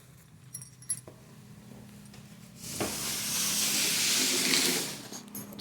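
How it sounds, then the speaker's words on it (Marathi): Chopped onion hits hot oil with cumin and mustard seeds for a poha tempering, bursting into a loud, steady sizzle and hiss midway that holds for a few seconds before easing, with faint clinks before it. "त्याला जिरं, मोहरी टाकून त्यामध्ये बारीक केलेला कांदा घालायचा आणि तो परतावायचा"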